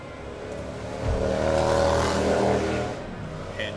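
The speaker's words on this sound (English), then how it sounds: "my window is open, so any idiot who decides to rev their engine will be heard" A car engine revving outside an open window, a distant low rumble that swells to a sustained roar and fades back to a steady drone.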